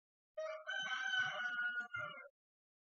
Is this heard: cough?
no